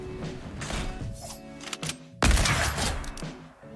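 A sniper shot cracks out in Fortnite amid busy game effects and music, one sharp loud report partway through against a cluttered background.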